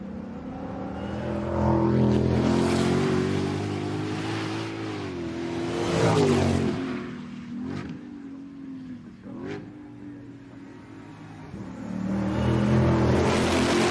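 A 2025 Ford Mustang GTD revving and accelerating, loud and close, with the engine note rising and falling across several swells and a couple of sharp transient pops mid-clip.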